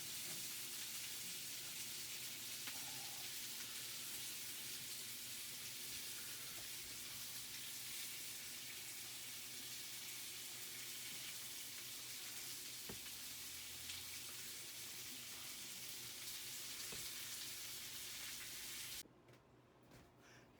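Potatoes, onions and mushrooms fry together in a pan as a side dish, a steady soft sizzle that continues evenly, close and faint, before cutting away near the end.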